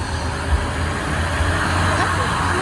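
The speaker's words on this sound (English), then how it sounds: "Look at that. It's a school bus." A school bus rumbles past nearby on a street, its low engine drone and road noise steady throughout, with people talking over it.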